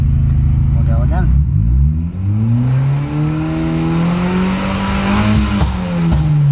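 An Abarth 595 with its anti-lag system switched off revs up loudly and close, the engine note climbing steadily in pitch through acceleration over several seconds.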